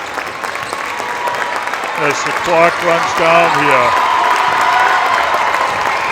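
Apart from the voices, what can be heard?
parents cheering at a girls basketball game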